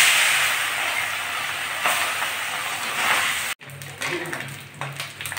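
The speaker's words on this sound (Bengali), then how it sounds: "মাছগুলো আমি প্রথমে ভেজে নেব" Fish frying in hot white oil in a wok gives a loud, steady hiss that cuts off abruptly partway through, then returns as a quieter, uneven crackle.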